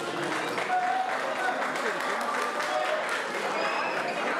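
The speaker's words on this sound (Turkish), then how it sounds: "Alkışlar gelsin güçlü babaya." Guests applauding at a family celebration in Cologne, with steady moderate clapping mixed with crowd chatter and voices in a reverberant hall throughout.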